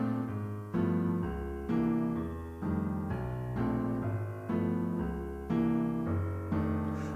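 A chord progression that turns the two chord into a dominant is played on what sounds like piano. Sustained chords are struck about once a second in a steady rhythm, each ringing and fading, with no talking.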